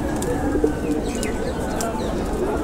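Pigeons coo softly and repeatedly nearby at a pigeon market, with a few faint chirps and light background noise throughout.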